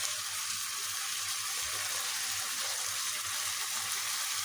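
Chicken pieces frying in a pan for chicken vegetable fried rice, a steady, close hiss and sizzle of hot oil that carries on evenly without any talking.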